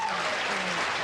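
Studio audience applause, a short steady burst of clapping at moderate level, heard alone without talk.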